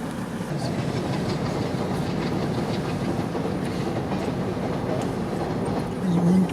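A passenger train bound for Cochin in Kerala, India, rolls along the rails with a steady, continuous clickety-clack and rumble, heard close up from on board.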